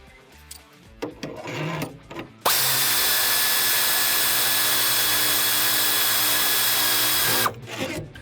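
A power tool fitted with a thru-hole ratchet spins loudly and continuously for about five seconds, backing a tensioner bolt off farm equipment, preceded and followed by clanks of handling.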